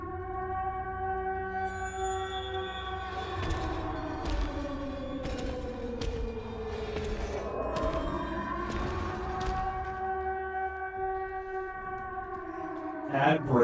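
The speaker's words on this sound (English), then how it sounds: "The air raid siren's controlling him." Air raid siren in the video game Silent Hill 2 Remake, a loud, droning, wailing tone whose pitch slides down and then climbs back up, sustained for the whole stretch under faint background noise.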